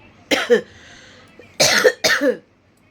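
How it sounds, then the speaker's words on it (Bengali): A person who is ill with a blocked nose and a mild fever coughs three times, close and loud, with short raspy bursts and pauses in between. "এখন ভালোই কাশি হচ্ছে"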